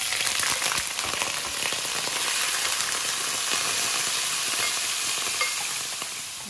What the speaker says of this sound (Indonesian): Ini ikannya aku goreng